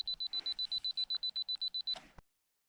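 A camera self-timer at a bush camp by the Clyde River sounds a rapid run of about fifteen evenly spaced high beeps, close and clear, then stops abruptly.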